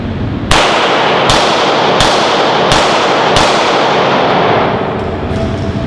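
A Glock 17 9mm pistol fired five times in quick succession, each shot a sharp loud crack with a long ringing tail, close and alone with no talk.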